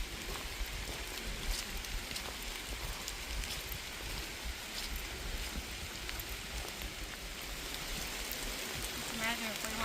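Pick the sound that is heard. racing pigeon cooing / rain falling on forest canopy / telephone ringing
rain falling on forest canopy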